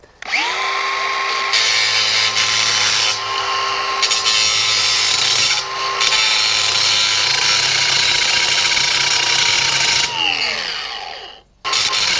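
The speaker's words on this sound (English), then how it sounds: "So let's get the bandsaw, and we're gonna start hacking on this" A bandsaw cuts through metal while a two-seater barrel train ride is being built, a loud steady whine with a high ringing tone that runs almost without a break for about ten seconds and then stops abruptly, close up with no voices.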